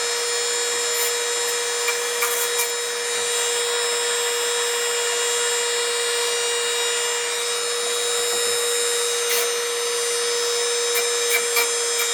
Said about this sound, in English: for grinding the ends down of the track